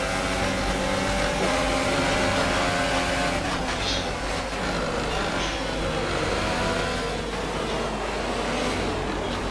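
A Formula-style racing car engine in a racing video game drones continuously at high revs. It sounds rough and uneven, as if knocking, with a gritty roar that stays loud from start to finish.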